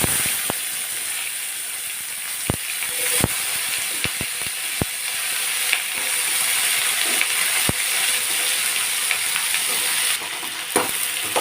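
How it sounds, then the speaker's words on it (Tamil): Diced brinjal sautés in hot oil over a mustard seed and urad dal tempering for tamarind kootu. A steady close sizzle carries sharp scattered clicks as a spoon scrapes and stirs the pan. "இது கொஞ்சம் நம்ம வதக்கி கொடுக்கலாம்"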